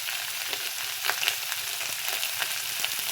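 Ground spices (turmeric, cumin, coriander, garam masala) sizzle steadily in hot oil for an egg and potato curry, with a constant frying hiss and soft scrapes as they are stirred.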